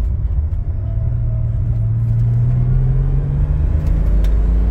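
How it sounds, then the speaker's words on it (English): A 1987 BMW E25 535is engine pulls hard in second gear after a downshift, its loud, close, steady rumble rising slightly in pitch as the car accelerates, with no one talking. "I do a downshift to fourth, third gear,"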